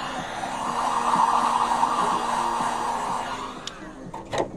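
A heat tool blows hot air onto the back of an iPhone 8 Plus to loosen the battery adhesive, a steady close whooshing hum with a few small clicks near the end.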